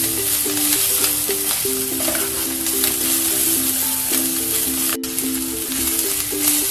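Baby potatoes sizzle in a hot pan with roasted coriander, a loud, steady frying crackle with a few stirring scrapes and a faint tonal hum underneath.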